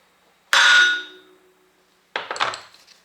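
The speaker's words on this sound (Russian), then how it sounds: "Возьмем молоток и сделаем один четкий удар в центральный болт." A hammer delivers one sharp ringing metallic blow to the central bolt of a Ural motorcycle flywheel, loud and close with a lingering clang, followed by a shorter rattling clatter of metal a moment later.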